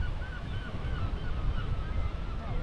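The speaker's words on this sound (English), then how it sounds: "There's a lot of seagulls." Seagulls call on the Dorset and Devon coast: faint, wavering cries drift over a constant rumble of wind and surf, with no voices.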